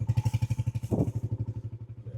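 A motorcycle on a mountain road near the Afghanistan border. It idles close by with a steady, throbbing pulse, then gives one short burst of throttle before settling back to a chugging idle.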